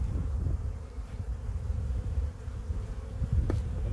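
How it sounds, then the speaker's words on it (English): A steady low buzzing drone of honeybees flying close by around a hive, continuous throughout with a faint breezy background. "The bees are really just starting to fly good today."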